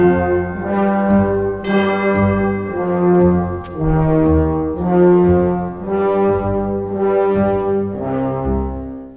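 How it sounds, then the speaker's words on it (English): Orchestral bells toll in the fifth movement of Berlioz's Symphonie Fantastique, giving repeated resonant strokes over sustained orchestral chords in a steady, measured rhythm. "all while accompanied by bells, coming in two bars late this time"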